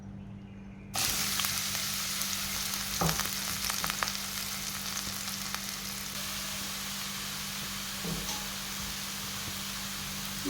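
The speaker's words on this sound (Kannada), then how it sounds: "ಇದರಲ್ಲಿ ಈ ತುಪ್ಪದಲ್ಲಿ ಹುರಿಬೇಕು, ಚೆನ್ನಾಗಿ ಹುರಿಬೇಕು" Grated bottle gourd frying in ghee for halwa starts abruptly after a moment of quiet and becomes a steady, dense sizzle with occasional stirring scrapes and a low hum beneath. Nobody speaks.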